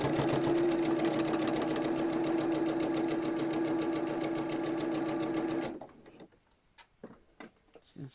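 Sewing machine running steadily as it stitches a zipped top bag, a fast even whirring chatter that holds close and loud for nearly six seconds, then stops, leaving faint handling clicks and rustles.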